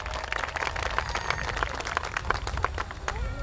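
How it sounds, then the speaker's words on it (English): A crowd claps at a school kindergarten and 6th grade promotional ceremony, a dense, even wash of applause that holds steady throughout, with faint voices mixed underneath. "Preston, let's give him a big round of applause,"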